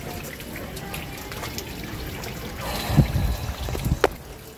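Water runs into a container as a soft, continuous trickle that swells slightly toward the end, with a few brief clunks mixed in.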